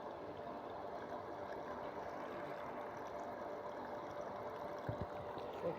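Water pours steadily from a well pump after sand clears from the bore, the pressure building into a continuous faint rushing flow with no voices.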